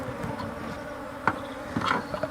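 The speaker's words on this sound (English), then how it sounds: "the bees swarming around me." Many bees buzzing nearby in a dense, continuous drone during beekeeping, with individual insects flying close past now and then.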